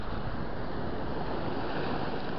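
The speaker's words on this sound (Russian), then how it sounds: "Сегодня волны." Sea waves break on a shore on an early summer day, a steady, loud wash of surf with wind noise buffeting the microphone and no voices.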